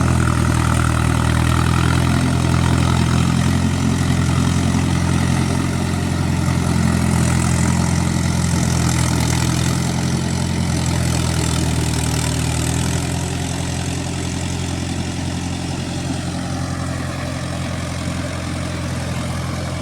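A Mahindra Yuvo Tech Plus 575 4x4 tractor engine runs steadily, a loud, close, continuous diesel rumble with a strong low drone that holds without pause.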